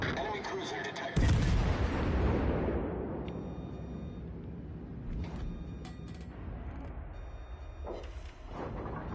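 A heavy naval cruiser salvo booms out in World of Warships: Legends, one loud broadband blast that rolls off into a long fading rumble, with faint game effects and brief voice chatter afterward.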